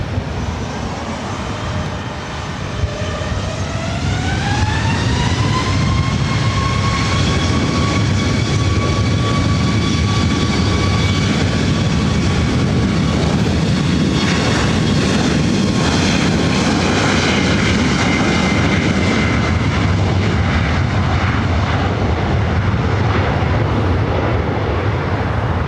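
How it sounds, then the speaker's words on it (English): An airliner powers up for takeoff on runway 24 right at LAX. The engine roar builds into a loud, sustained whine with rising tones and holds steady for about twenty seconds without speech. "Clear to immediate takeoff on 24 right"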